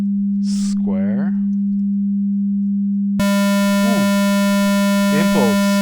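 A steady pure synthesizer tone switches abruptly to a bright, buzzy square-wave tone that holds on, with a few spoken words over both.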